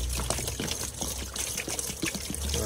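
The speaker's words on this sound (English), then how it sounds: "Then I'm going to use water and clean around this area." Water poured and splashed over brake fluid spills around a Vauxhall Corsa's clutch and brake area, a steady close trickle and spatter lasting a few seconds with no talk.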